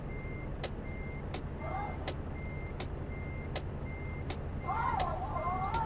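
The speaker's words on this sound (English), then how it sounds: "I hear a truck reversing behind me." Steady electronic truck reversing beeps in Euro Truck Simulator 2 Multiplayer repeat at an even pace, with sharp clicks and a low engine rumble underneath and a short rising tone near the end.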